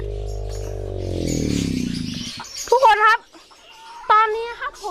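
Laying hens cluck and squawk in short bursts up close, following a low drawn-out vocal sound at the start.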